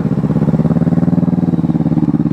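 A motorcycle engine idles steadily at close range, its exhaust giving a loud, even, rhythmic throb with no other sounds.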